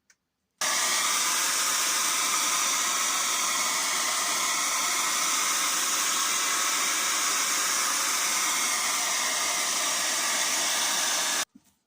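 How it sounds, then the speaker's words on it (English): A hair dryer drying a watercolour painting blows steadily for about eleven seconds, a loud, continuous broadband whoosh that starts and stops abruptly, with no voices. "we need to dry it off with a hairdryer"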